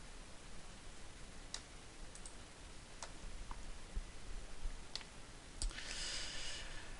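A computer mouse clicks while software is used, giving sparse, faint, sharp clicks spaced a second or so apart over a low hiss, with a brief rustle near the end and no voices.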